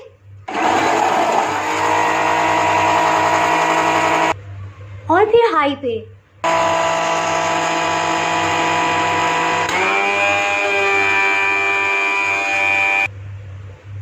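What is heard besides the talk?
electric blender beating eggs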